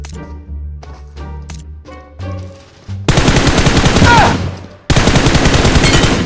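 Rapid automatic gunfire from the PUBG video game comes in loud, dense bursts after a quieter stretch of single shots and game sounds, close and dominant.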